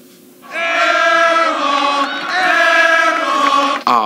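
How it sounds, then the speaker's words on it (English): A crowd of enthusiastic spectators shouts a cheer in unison, a loud, sustained group chant that rises in two strong surges before cutting off abruptly. "I love that cheer."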